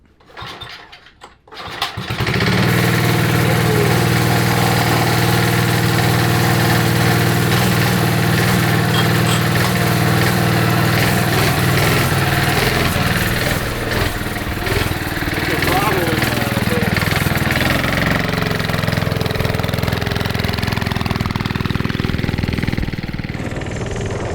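A vintage Bonanza mini bike's small engine, suspected of having a bad condenser, cranks briefly and then catches, settling into a steady loud buzzing run with slight rev changes, close by, while people talk over it.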